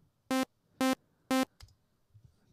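Three short, identical Sylenth1 synth tones from an initialized preset play in an even rhythm, each a plain buzzy note with sharp start and stop, followed by faint clicks.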